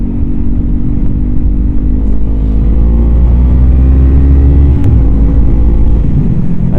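A 2020 Honda Rebel 500 motorcycle pulls hard past a slow car on a national-speed road, its engine note climbing steadily and loud up close over constant wind rush, with a brief sharp shift partway through.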